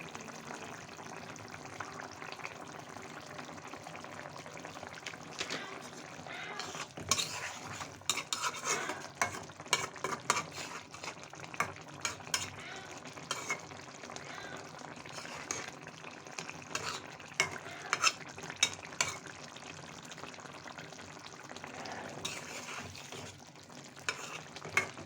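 Tilapia fish sizzles in a pan while a spatula stirs and scrapes against the metal, a steady fry with frequent clinks and scrapes, close and moderately quiet, without speech.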